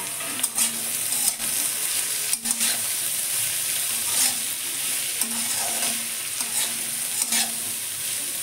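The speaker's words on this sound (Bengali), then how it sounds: "ঝিঙের খোলা এবং আলুর খোলাটা আমি একটু নেড়ে নেব।" Ridge gourd peels and potato peels are stir-fried with curry leaves in hot oil. A steady sizzle runs throughout, broken by repeated scraping strokes of a spoon stirring in the pan.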